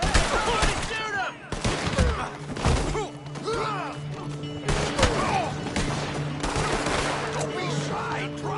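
Gunfire in Red Dead Redemption 2 comes as rapid, loud shots and booming bursts in a chaotic exchange, with game voices shouting over the fire.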